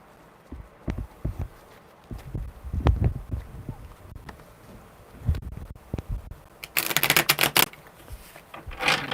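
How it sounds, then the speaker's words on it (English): Tarot cards shuffled by hand, quick papery riffles and soft taps in irregular bursts, ending with a louder, crisp riffle near the close. "That was a really weird shuffle."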